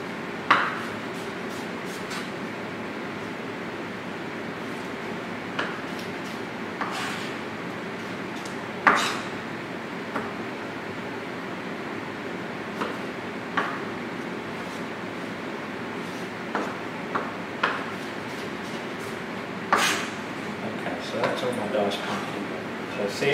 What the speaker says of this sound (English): So that's most of my pumpkin chopped now.